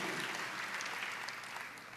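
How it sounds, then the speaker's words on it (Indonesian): Congregation applauding at a church morning prayer service, a steady, dense wash of clapping that holds at even loudness throughout without a break. "Tepuk tangan."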